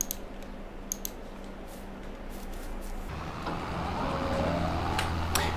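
A tractor mower drives in Farming Simulator 22 with a steady, low engine drone that grows fuller and louder about halfway through, alongside faint clicks and a rising whine.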